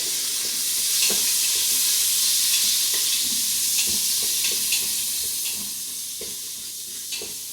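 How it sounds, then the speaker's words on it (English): Onions being stirred in olive oil in a pan, a bright hissing sizzle with regular scraping strokes of a utensil, close and steady, easing slightly toward the end, no talking. "we're just going to stir that together, okay? So they're all nicely coated with the olive oil"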